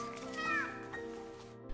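A cat meows once from inside a hole, the call muffled and fairly faint. Other sounds and faint voices run quietly underneath.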